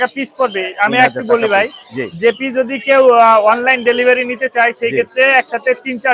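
Caged birds at the Mirpur 1 bird market, with pigeon- or dove-like coos and chirps close by, mixed under loud, continuous talk from people nearby.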